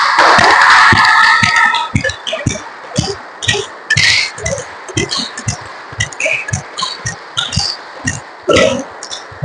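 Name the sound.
hands clapping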